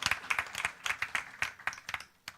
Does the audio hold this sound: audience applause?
yes